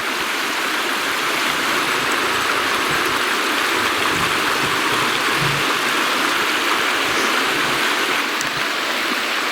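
A river flows along its bank in Talamanca, Costa Rica, giving a steady, close rushing wash of water with no breaks, like a stream over rocks, and no voices on top.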